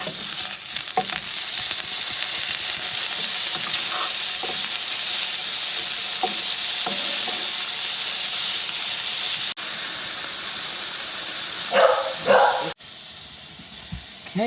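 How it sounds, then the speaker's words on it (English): Sausages fry in a pan with a loud, continuous sizzle and hiss, with a few scraping clatters as they are turned and a sudden drop in level toward the end. "It's time to flip the sausages."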